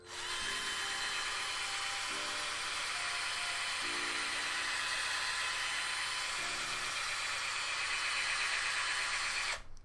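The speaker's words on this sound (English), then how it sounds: "If the drill's too loud, somebody let me know." An electric drill whines steadily and high-pitched for nearly ten seconds, close and continuous, with faint low hums pulsing in the background.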